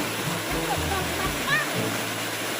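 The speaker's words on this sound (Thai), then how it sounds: "น้ำตกคลองปลาก้าง" Water pours steadily at Khlong Pla Kang waterfall in Rayong, a continuous broad rushing roar with a few faint high chirps or calls above it, close and unbroken.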